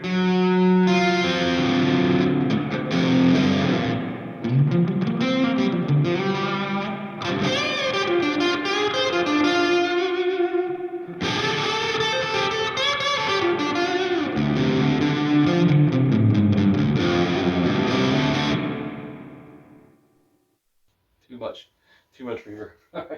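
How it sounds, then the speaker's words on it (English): Electric guitar played through an Orange Rockerverb MKI amp with the reverb turned fully up, sustained distorted chords and notes washing into a long reverberant tail for about twenty seconds, then a few sparse plucks after a pause. "I'm going all in on the reverb now."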